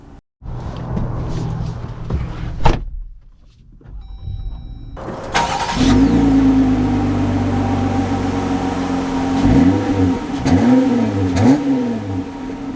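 A 2024 Jeep Gladiator Willys starts and pulls away, its engine rising through a steady loud drone with several revving surges as it accelerates, heard from inside the cab.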